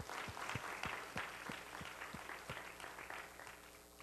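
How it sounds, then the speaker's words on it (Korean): A church congregation claps briefly at an evening service, a rapid patter of hands that stays fairly faint and steady throughout. "박수 한번 하죠."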